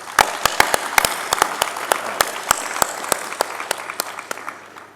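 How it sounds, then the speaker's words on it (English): Audience applause for state broadband directors at a conference fireside chat, a dense steady round of clapping from a sizable crowd with sharp individual claps standing out, lasting several seconds without speech. "So can we please give them a round of applause too?"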